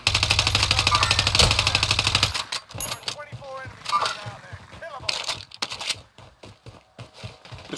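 Automatic gunfire from a Call of Duty Warzone match rattles in a loud, dense burst for about two seconds, then gives way to scattered clicks and quieter game sounds.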